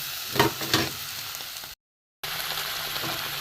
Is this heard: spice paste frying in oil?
yes